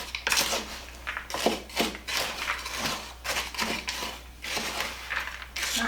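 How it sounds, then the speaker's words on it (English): Sugar, brown and white, stirred in a bowl for pecan squares, giving repeated close scraping and gritty crunching strokes with uneven rhythm, with no talking. "I'm going to give this a good stir"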